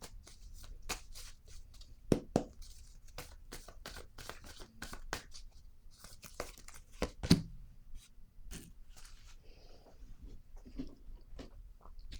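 Cards being shuffled by hand for a tarot-style card reading, a steady run of soft riffling clicks and flutters with two sharper snaps, close and fairly quiet, with no talking.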